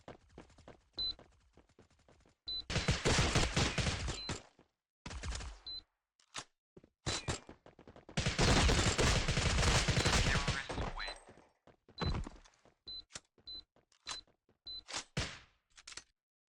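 Bursts of rapid gunfire from an offline mobile shooter game, with long sustained volleys and scattered single shots separated by near silence, loud and close with no talking.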